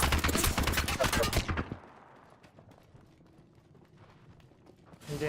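Nemesis rifle in Apex Legends firing a rapid, loud burst of gunshots for about a second and a half. Quieter game ambience and faint mechanical clicks follow, and another burst begins at the very end.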